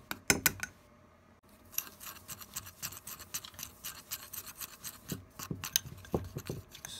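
Boric acid being mixed into a teaspoon of peanut butter, a close series of sticky scraping and scratching strokes in an irregular rhythm, with a few sharp clicks of the utensil at the start, no voices.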